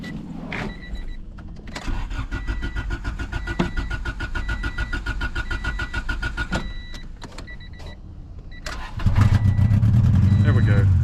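Honda Civic that has sat unused for ten years, suspected of a cylinder misfire, cranking with a rapid whirring starter for several seconds before a louder engine roar catches near the end, with a voice talking over it.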